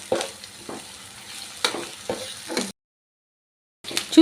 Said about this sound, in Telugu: ఆనియన్స్ జింజర్ గార్లిక్ పేస్ట్ మొత్తం కూడా ఈవెన్ బాగా ఫ్రై అవుతున్నాయి